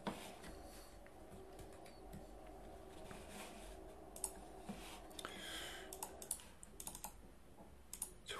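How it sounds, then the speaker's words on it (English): Calculator buttons pressed in quick irregular clicks, faint and close, with brief pauses between runs of taps and no voice. "we're ready to type this in the calculator"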